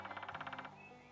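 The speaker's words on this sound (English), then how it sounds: "That is a woodpecker." A rapid burst of about ten hollow knocks, a woodpecker drumming at a steady fast pace, then it stops, leaving a quieter background.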